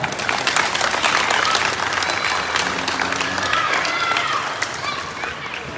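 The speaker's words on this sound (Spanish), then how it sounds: "Denle un aplauso a nuestro barrio Policarpa." Loud, sustained applause from a neighborhood crowd at a nighttime community event in Puerto López, many hands clapping densely and continuously, with a voice briefly speaking over it midway.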